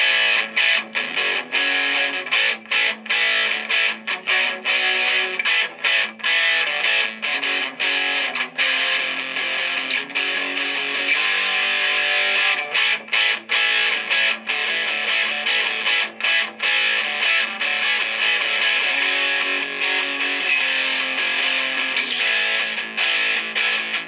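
A heavily distorted electric guitar through a Boss ME-80 multi-effects unit on its regular distortion setting plays continuously, loud and buzzing, with chords and notes following a steady rhythm.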